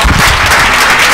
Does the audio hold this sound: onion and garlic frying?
no